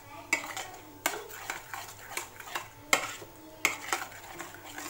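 A spoon scrapes and clinks against a bowl while red chilli powder and crushed red chilli are whisked into a marinade for chicken biryani: repeated close, irregular strokes at a moderate level, with no voices.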